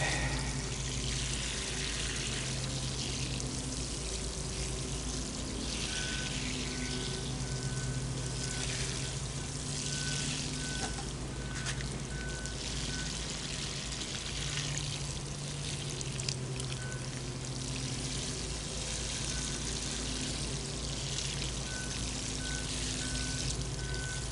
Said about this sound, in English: I need to put a lot of water on here so that that could soak up some moisture